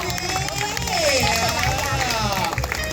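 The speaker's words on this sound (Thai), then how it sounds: "ขอบคุณในเสียงปรบมือ" Audience at a magic show at Cicada Market, Hua Hin, applauding in a steady continuous wash of clapping with crowd murmur underneath, with a voice speaking over it.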